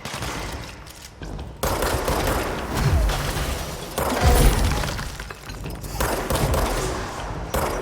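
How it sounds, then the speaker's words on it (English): A minigun firing in the video game Control, a loud, sustained rattling barrage mixed with crashes and shattering debris that goes on for nearly eight seconds with brief pauses. "He's got a minigun!"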